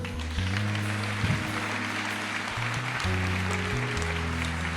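A church congregation applauds steadily for about five seconds, the clapping mixed with sustained organ or keyboard chords playing underneath.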